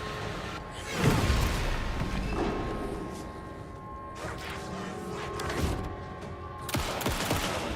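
Shotgun blasts in the video game Alan Wake 2, a few heavy booming shots spread over several seconds amid clatter and game noise, with a steady hum in the background.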